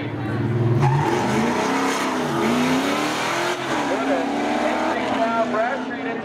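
Race cars in a spectator drag race at Seekonk Speedway roar steadily side by side, engine tones rising and falling through the run, loud and continuous with a commentator talking over them.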